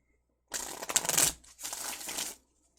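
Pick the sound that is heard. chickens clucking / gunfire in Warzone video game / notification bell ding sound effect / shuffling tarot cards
shuffling tarot cards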